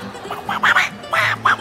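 A human voice imitates Donald Duck's raspy quacking in several short, nasal bursts with a steady rhythm. It sounds close and fairly loud, with no other talk.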